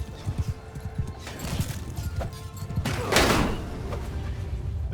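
Hoofbeats clip-clop from a ridden horse in Mount & Blade Bannerlord, a fast uneven patter of low thuds, with a louder clattering burst near the three-second mark and busy battle noise behind.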